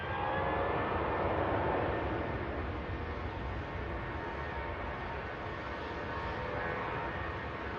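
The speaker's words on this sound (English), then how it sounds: "Great sound there from the Lufthansa A321" A Lufthansa A321 airliner in from Frankfurt, with noisy engines, roars loudly and steadily at Manchester Airport, then slowly eases off as it passes.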